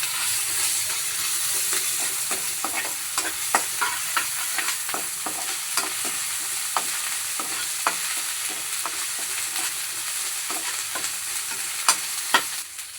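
Onions fry in a pan with turmeric and ginger paste for mushroom fried rice, giving a bright, constant sizzle with regular scraping clicks of a stirring spoon throughout, no voices.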